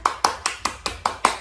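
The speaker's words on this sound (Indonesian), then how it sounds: "kita beri tepuk tangan dulu yuk untuk bangsa Indonesia" Children clapping their hands together at a church children's service, seven sharp, evenly spaced claps in a quick steady rhythm, close and fairly loud, with short pauses between them.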